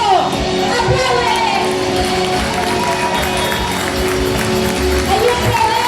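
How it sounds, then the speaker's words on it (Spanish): A church congregation applauds and cheers at a Spanish-language resurrection sermon. The clapping is a loud, dense, continuous wash, with scattered shouts and music running underneath throughout. "¡Aplaude!"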